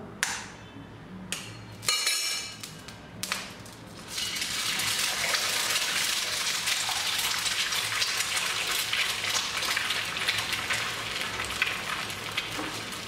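An egg is cracked and poured into a hot, lightly oiled pan. A few sharp taps and clicks come first, then a loud, steady hiss of frying starts and continues close by without break.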